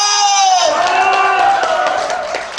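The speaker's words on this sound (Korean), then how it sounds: "다시 한번 이쪽에 박수하고 함성" Crowd at an outdoor wild ginseng festival in Hamyang answers a stage performer, starting with a loud rising voiced whoop that gives way to a noisy spread of clapping and cheering.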